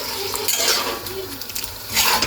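Frozen vegetables frying in a pan, a steady broadband sizzle with light scraping and stirring of a utensil against the pan, close and moderately loud throughout.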